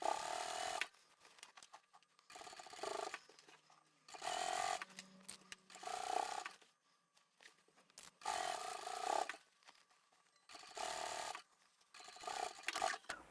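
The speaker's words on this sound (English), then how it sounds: "I will start sewing on the side seam" A sewing machine stitches a drawstring bag's side seam in several steady whirring runs of a second or two each, close and fairly quiet, separated by short pauses.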